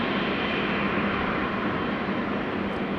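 A KLM jet airliner on its takeoff roll at Schiphol makes a steady, loud, broad engine roar that holds evenly throughout, heard from a distance with no voices.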